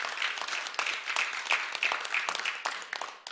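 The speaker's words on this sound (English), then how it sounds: "let us give her a round of applause in her absence" Applause from a St. Patrick's Day gathering of Essex County officials, a steady roomful of hands clapping for a few seconds, dense and moderately loud with no talking over it.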